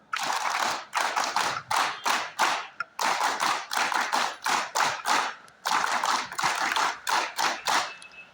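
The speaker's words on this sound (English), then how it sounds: "NSS clap goes." Rhythmic group clapping at an NSS special camp inauguration: a crowd claps in quick, patterned bursts, loud and close, in repeated sequences separated by short pauses.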